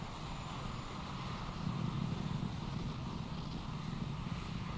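SpaceX Falcon 9 rocket engines during ascent, heard as a distant, steady broadband roar with low rumble, fairly faint and wind-like, continuous throughout with no voices.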